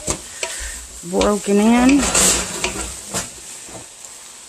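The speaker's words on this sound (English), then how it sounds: "I'm going to stir this just until these little clumps are kind of" Chow mein noodles and cabbage stirred in a hot pan, a steady close sizzle with scraping stir strokes, while a voice talks briefly over the cooking.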